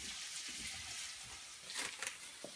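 Onions frying in a pan for a home-made curry, a soft steady sizzle close by, with a few brief stirring clicks near the end.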